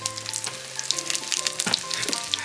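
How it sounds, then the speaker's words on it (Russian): Bread rolls fry in a pan with a steady, crackling sizzle and occasional sharp pops, close and fairly loud with nothing else over it. "У нас продолжает вариться суп и жарятся булки."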